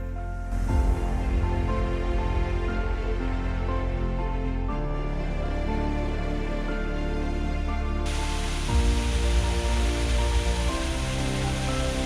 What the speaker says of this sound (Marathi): पाऊस खूप असल्यामुळे शूटिंग करता येत नाही कॅमेरे पण भिजलेत